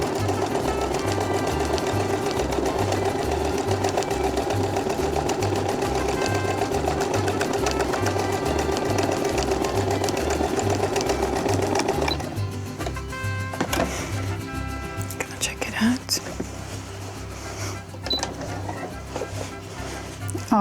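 A sewing machine stitches through wadding on a patchwork laptop sleeve, running in a fast steady mechanical rhythm, then stopping and restarting in short bursts with small clicks and handling noises.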